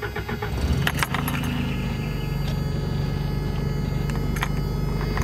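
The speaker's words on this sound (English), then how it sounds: "this thing starts up right away" A four-wheel drive extra cab pickup truck's engine turns over and catches almost at once after a brief rattle of keys. It settles into a steady close idle with no speech.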